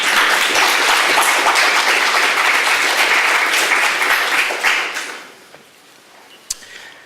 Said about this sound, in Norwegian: vi kan jo kanskje starte med å gi dem en applaus